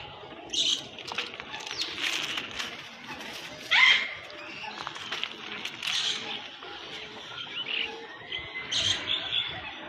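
Birds chirp and call in the pigeon section of the TMII bird park, with short bright tweets scattered through a steady outdoor murmur and one louder call near the middle.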